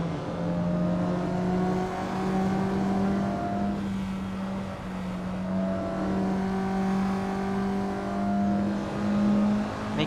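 A Mazda race car revs on a track at night, its harmonic engine note rising and shifting through the gears. Another climb follows, moderately distant and continuous, with no voices.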